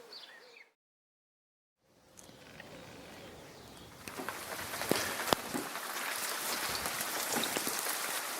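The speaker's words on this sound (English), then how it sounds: "Another deluge of rain, and all that work I did yesterday made no difference." A heavy rainstorm pours down outdoors near a workshop, starting faint and then swelling into a dense, steady hiss of rain with scattered louder drops and splashes.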